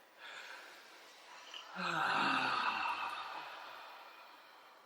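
A person takes a deep breath during a group relaxation exercise, a long audible inhale followed by a slow breathy exhale, close and alone.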